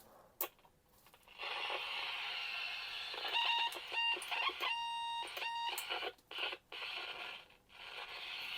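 A 1990s walkie-talkie gives off a steady broadband static hiss that cuts in and out as it is switched, broken by a few short tonal beeps and clicks, with no voices.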